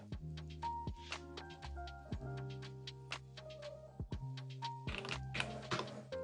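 Typing test on a Matrix Labs Abel X mechanical keyboard: a close, steady run of crisp clacking keystrokes with occasional deeper thocks from larger keys, alone without talk.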